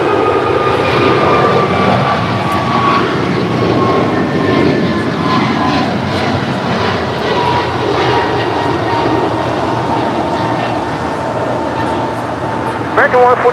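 An airliner takes off from runway 25 right at LAX, a loud, steady broadband jet roar that fills the whole stretch without letting up.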